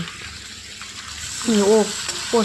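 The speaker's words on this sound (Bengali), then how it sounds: "তো তোমরা দেখতেই পাচ্ছ এর মধ্যে আমি এখন দিয়ে দেবো আর একটু জল" Water is poured from close by into a pot of boiled cauliflower, giving a short liquid splash and gurgle, with a voice talking over it near the end.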